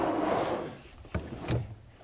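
A wooden drawer is pulled out of a coffee cart, close by: a short sliding rumble, then two soft wooden knocks as it comes free.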